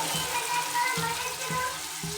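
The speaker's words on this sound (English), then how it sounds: "Add some water" Water poured into a pan of soya chilli cooking with vegetables and garam masala, a steady broadband splashing hiss with soft low thumps recurring about every half second, moderately loud and continuous with no talking.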